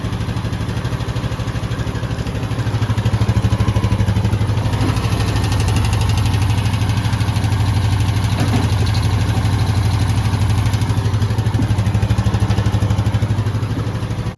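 Honda Rubicon 520 ATV engine starting and settling into a steady, loud close-up idle with a low, even rumble and no talk.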